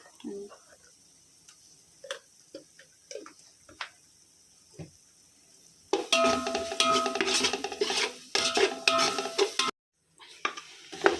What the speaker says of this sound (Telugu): చికెన్ యాడ్ చేస్తున్నానండి.